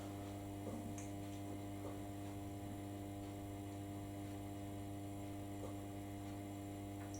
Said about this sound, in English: Oh, it's humming.